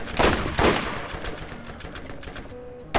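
Gunfire in the video game Borderlands: a few sharp, loud shots come in quick succession, followed by fainter rapid firing and a final burst at the end.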